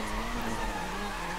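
Car tires skidding and squealing through a drift in the racing game Need for Speed: Most Wanted (2012), a steady sustained screech over a continuous engine drone, loud and close.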